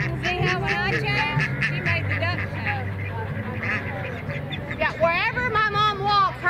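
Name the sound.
ducks being herded by a dog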